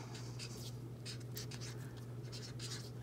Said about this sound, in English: I think I am gonna write a little message